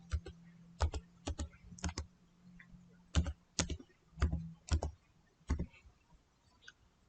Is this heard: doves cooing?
no